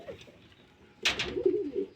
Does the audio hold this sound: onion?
no